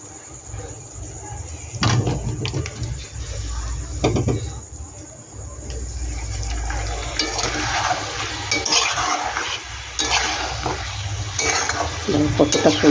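Potatoes go into a hot pan for a chili potato dish, bringing bursts of clatter and stirring over a steady sizzle that grows brighter and busier toward the end, with a voice speaking now and then.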